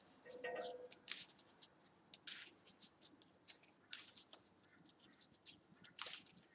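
A deck of cards is shuffled by hand at a tabletop for the Marvel Champions card game, giving soft, quick riffling and snapping flutters in several short bursts, close and quiet, with some faint handling noise between.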